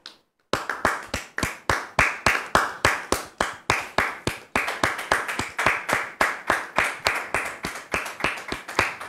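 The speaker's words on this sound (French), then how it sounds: "On le reçoit sous vos applaudissements, s'il vous plaît." A studio audience welcomes a guest with loud, crisp clapping in a strong, regular unison beat. It starts abruptly after a brief silence and keeps a steady pace to the end.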